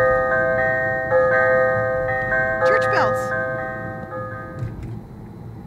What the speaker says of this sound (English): Their church bells go off when you get close to my church.